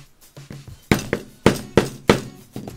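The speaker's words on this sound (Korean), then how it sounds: "오늘은 오울 그리프 4mm짜리 양쪽 라인에 구멍을 뚫어줄게요." A 4mm pricking iron is struck through leather to punch stitching holes for a money clip, giving a steady series of sharp, close thunks, each hit ringing briefly.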